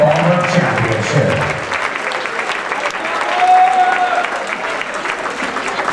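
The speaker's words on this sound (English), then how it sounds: "give a great round of applause to these six fabulous finalists in this Open Provincial Ballroom Championship" Audience applause for six finalists at an Open Provincial Ballroom Championship, continuous clapping from a large crowd, with some voices and music in the opening second.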